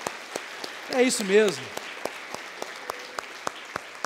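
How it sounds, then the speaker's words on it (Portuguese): Steady, evenly spaced claps from a church congregation, fairly faint, while a voice speaks briefly over them. "pode aplaudir a Jesus"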